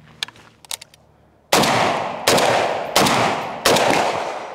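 An AK-47 with a 16-inch barrel and no muzzle device fires full-power 7.62x39 ammunition, four loud, evenly spaced shots with long booming tails, preceded by a few quieter mechanical clicks and clatters.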